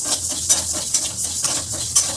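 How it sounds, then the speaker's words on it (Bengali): Mung dal hits a hot wok and sizzles loudly, with rhythmic stirring scrapes repeating about twice a second close by. "কড়াই গরম হয়ে গেছে, ডালটা আমি ছেড়ে দেবো"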